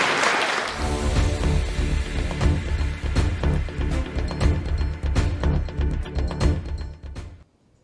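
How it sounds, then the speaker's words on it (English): An audience at a graduation ceremony claps for several seconds, a dense patter of many hands that holds steady and then cuts off abruptly. "I want you to give them a hearty round of applause for supporting you"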